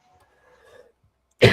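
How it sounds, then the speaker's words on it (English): Near silence with faint faint rustling, then one sharp, loud cough right at the end. "You'll excuse me if I cough."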